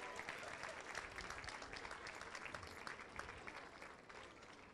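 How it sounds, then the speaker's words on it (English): Applause for a school choir at an elementary school's 50th anniversary ceremony fills a hall in a continuous, even clatter of many hands, moderately distant and without speech. "Let's give our choir one more round of applause."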